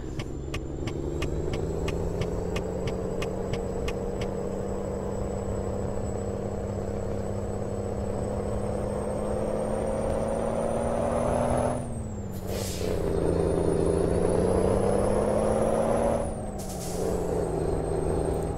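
Ford Cargo truck engine in Euro Truck Simulator, a steady loud drone that rises and falls with gear changes, with two sharp air-brake hisses and rapid clicking early on.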